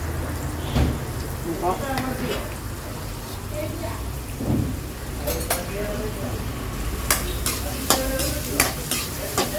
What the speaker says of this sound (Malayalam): അപ്പം ഇവിടെ സബോള ഒരുവിധം വഴഞ്ഞു വന്നിട്ടുണ്ട്